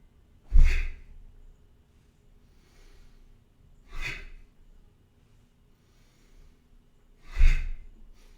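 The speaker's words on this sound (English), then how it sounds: "Breathe in, and then you just drop, and you breathe out." Deep, slow breaths during a qigong exercise: three long, close exhalations spaced a few seconds apart, each a soft rushing sigh, with faint inhalations between them and no talking.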